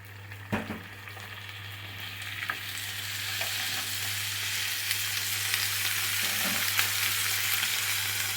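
Tomatoes sizzling and frying in a pan with two dried chillies for a peanut chutney, a steady hiss with an early stirring clatter and a few scraping knocks, continuous and close with no talk.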